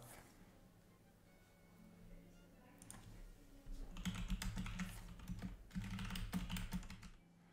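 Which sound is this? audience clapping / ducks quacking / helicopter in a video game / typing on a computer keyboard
typing on a computer keyboard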